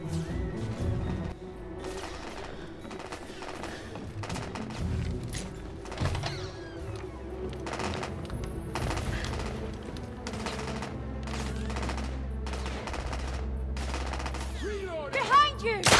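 Gunfire from the PS4 shooter The Order: 1886 crackles in rapid, dense bursts over an ongoing rumble of combat, with sharp crashes and mechanical clatter, loud and continuous throughout.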